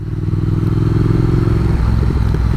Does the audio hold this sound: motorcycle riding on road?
yes